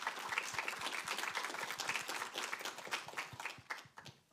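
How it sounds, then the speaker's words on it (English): Applause from an audience following an artist presentation, a dense, steady patter of many hands clapping at moderate volume that thins out toward the end. "let's have some applause for the presentation"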